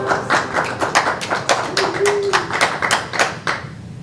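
Audience at a live show in Kenmore claps in a fairly close, distinct rhythm of individual hand strikes, moderately loud, with a brief tonal sound in the middle and the clapping tapering off at the end.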